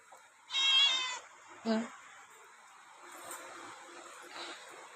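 A cat gives one clear, fairly close meow early on, followed by a short lower cry, with faint background sounds in a village home.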